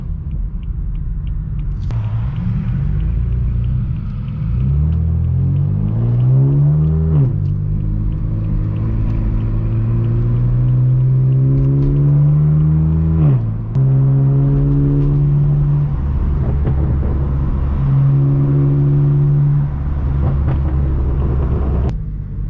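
Straight-piped BMW M4 F82 with a loud exhaust, heard from inside the car, revving and pulling through several rising gear sweeps with deep droning rumble between shifts, continuous and close.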